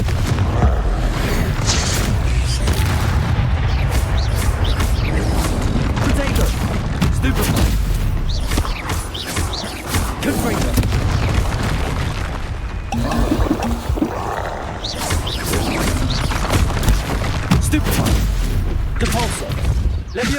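Confringo explosion spells blasting repeatedly in the video game Hogwarts Legacy, a loud, dense run of booming impacts and bursts with brief lulls, continuing for the whole stretch amid combat noise.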